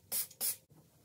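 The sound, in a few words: spraying new tile and grout cleaner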